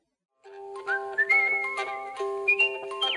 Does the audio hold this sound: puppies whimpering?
no